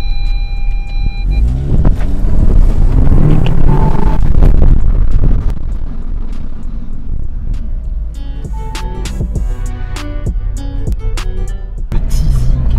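Audi S3 with 310 hp pulling away onto a track lap, a loud engine roar building and rumbling in the first half, then settling into a lower driving drone with clicks and rattles.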